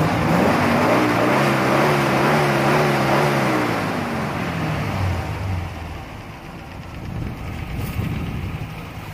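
A Rover P6 with a 3.5 V8 engine turns over and settles into a loud, rumbling idle. The engine note wavers early, then holds a steady, close drone.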